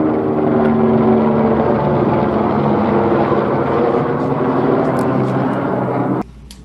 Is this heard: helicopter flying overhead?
yes